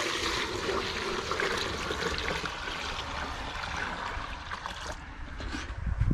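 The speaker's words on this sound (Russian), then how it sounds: "И выливаю эту воду в ведра со свежим куриным пометом" Water poured from a container into buckets of fresh chicken manure for strawberry feeding, a continuous close splashing gush that runs steadily for several seconds.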